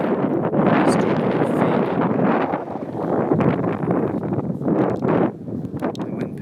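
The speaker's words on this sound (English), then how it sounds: "The wind picked up, but I just have to be patient." Wind blows strongly outdoors along a Norwegian mountain route, a steady broadband rush buffeting the microphone throughout with gusty swells and dips and no other clear sound.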